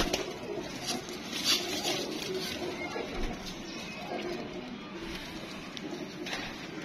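Blue-footed pigeons cooing softly in a loft, low murmuring calls scattered through steady background noise and faint rustling, no clear talk over them.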